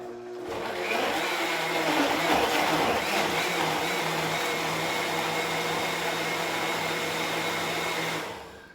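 Countertop blender pureeing citrus for sorbet, a steady loud motor whir with a tonal hum that spins up, churns for about seven seconds with a slight rise in grinding early on, then cuts off, with no talk.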